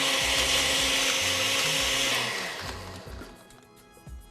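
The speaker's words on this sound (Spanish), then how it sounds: "Y conectamos la licuadora para que" An electric blender whirs loudly, mixing condensed milk with a chocolate cookie for a cocktail, its steady roar winding down after about two seconds into lower churning and a few clunks.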